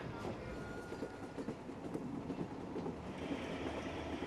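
Indian passenger train running steadily on rails, a continuous rumble with faint clickety-clack of wheels over joints, heard from close by with no talking.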